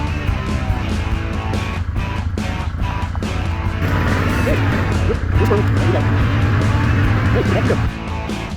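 A four-wheeler ATV drives across a yard, its motor droning steadily and loudly and rising slightly in the second half, close by with no clear speech over it.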